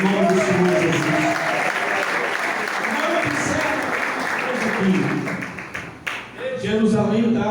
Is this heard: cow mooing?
no